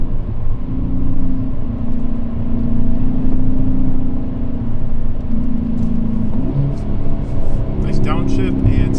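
A 2020 Hyundai Veloster N on a mountain highway, its engine droning loud and close inside the cabin, the pitch shifting as it downshifts, with road rumble and someone talking over it.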